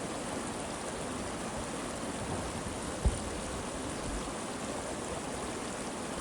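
A creek in Zion's canyon country rushes with a steady, broadband wash of flowing water, constant and fairly close, with a single soft knock partway through and no voices.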